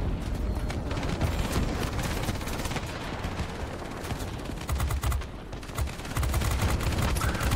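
A tail gunner's machine gun fires in a flight combat game, with rapid, sustained loud bursts that are nearly continuous and broken by brief pauses.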